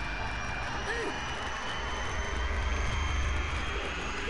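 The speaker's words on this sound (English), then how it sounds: "It sounds like an airplane." A steady airplane-like engine drone in the Megaman Network Transmission video game, a continuous broadband roar at even loudness throughout.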